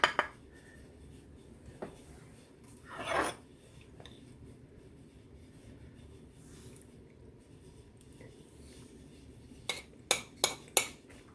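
A spoon scoops pea soup with ham out of a container, making faint, sparse scrapes and clinks: a few soft taps early on and a quick cluster of sharper clicks near the end, over quiet room tone.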